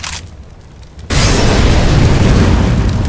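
A grenade blows up in a Counter-Strike style match on the map Cache: a faint, hollow buildup gives way to a sudden loud blast whose roaring, rumbling tail fills the rest of the moment, with no talk.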